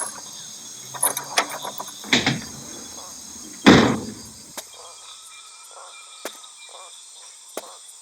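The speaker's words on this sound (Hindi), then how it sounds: "मैं चल के दरवाजा खोलता हूँ" A door is opened with a few creaks and clunks, including one louder thud in the middle, set against a faint insect-like drone and otherwise quiet surroundings.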